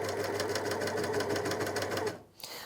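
A Janome 9300DX overlocker stitches fabric with a steady, fast, close mechanical whirring rhythm for about two seconds, then slows and stops with a small thump.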